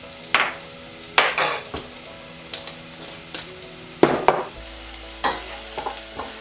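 Whole coriander seeds fry in a pan while a utensil stirs them, giving several sharp scraping strokes and clinks over a low, steady sizzle, close and fairly loud, with a faint hum behind.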